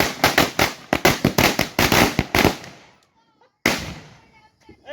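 A Diwali firecracker shot bursts in a rapid string of loud cracking pops about a dozen times, then a pause before one more sharp bang that rings out outdoors, with voices heard amid the noise.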